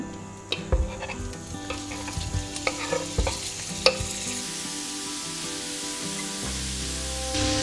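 Small pieces of chorizo fry in a pan alongside onions already browned, a steady close sizzle broken by scattered clicks and scraping stir sounds, with no talking.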